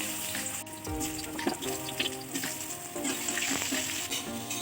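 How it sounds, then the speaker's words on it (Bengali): Potatoes fry in hot oil at close range, a continuous bubbling sizzle broken by occasional stirring clinks and scrapes. "ওই তেলে আমি আলুটা ভেজে নিচ্ছি।"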